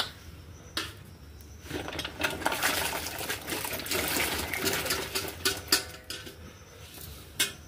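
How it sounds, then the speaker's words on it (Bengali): Chopped vegetables for a Bengali sukto, including sweet potato, tumble into a pot of water: clattering knocks against the metal pot followed by a sustained splashing, watery rush, close and fairly loud. "চলুন তাহলে এগুলো আমি জলের মধ্যে দিয়ে দিই।"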